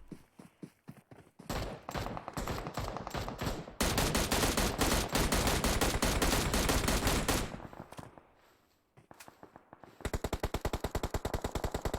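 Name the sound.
gunfire in PUBG Mobile video game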